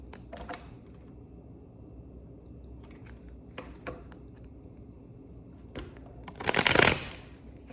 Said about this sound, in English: let me do a really good shuffle